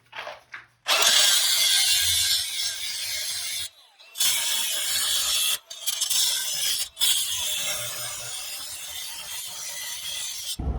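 A cast iron plumbing stack pipe being cut partway through, giving loud, harsh, sustained rasping in long bursts broken by several brief pauses.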